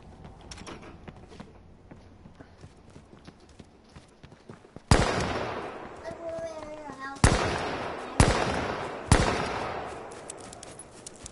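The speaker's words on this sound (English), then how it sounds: "I'm gonna draw someone in with this gunfire and get them." Gunfire in the video game H1Z1: four loud, sharp shots spaced about a second or two apart, each with a decaying tail, following a stretch of quieter game ambience with faint voices.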